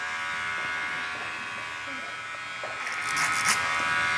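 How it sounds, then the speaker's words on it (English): Electric hair clippers trimming a massive beard using the clipper-over-comb technique, a steady close buzz running throughout, growing louder and rougher near the end as the blades pass through hair. "So let's just go through and just clipper over comb this."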